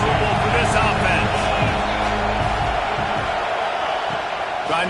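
A packed college football stadium crowd roars steadily at a game against BYU during an opposing offense's third-down play, a dense continuous wash of voices and cheering from a distance, with a commentator talking over it.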